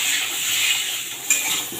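Potatoes and jackfruit fry in a pan with a steady, hissing sizzle, broken by a brief clink of a utensil near the end.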